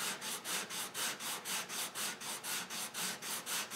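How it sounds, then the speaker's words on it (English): Wood for a kitchen spice rack side rail sanded by hand with sandpaper, steady rhythmic back-and-forth rasping strokes about three per second, close and even, with no talking. "Sanding and sanding and sanding."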